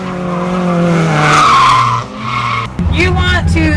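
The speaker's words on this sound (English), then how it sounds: "You want to make as much noise and as much smoke as possible, and you want to get the car as sideways as possible" A car slides sideways while drifting, its tires squealing loudly and close up in a long wavering screech that cuts off partway, then resumes more roughly alongside the engine.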